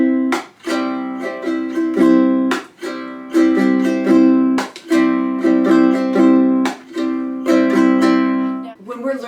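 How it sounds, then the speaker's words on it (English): Ukulele strummed in a rhythmic pattern with curled fingernails striking the wooden body for crisp percussive clicks, loud and close, chords ringing between the taps. "if you curl your fingers and they hit your ukulele just right here, then you'll get a nice little percussion sound."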